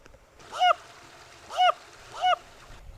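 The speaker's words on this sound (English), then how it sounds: "Their harsh croaking cries echo around the lunch spots and camps." A white-necked raven gives three harsh, hoarse croaking calls, evenly spaced about a second apart, fairly close against a quiet background on Mount Kilimanjaro.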